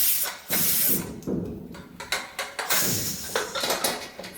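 A pressure cooker holding chicken biryani releases steam as it is opened, giving close, uneven hissing bursts mixed with the clink of metal pot and lid.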